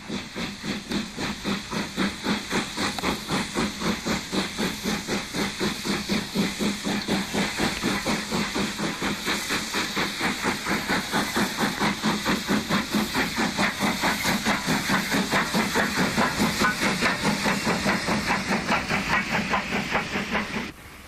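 Steam locomotive number 30065 chuffs rhythmically with steady hiss as it pulls away from Northiam station, its exhaust beats even and loud throughout.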